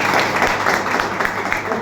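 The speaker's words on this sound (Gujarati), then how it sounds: "રિયલમાં ફરીથી એક જોરદાર તાળી દીધી" Dense, loud applause from a large audience at a motivational business event, a steady wash of many hands clapping together with no voices standing out.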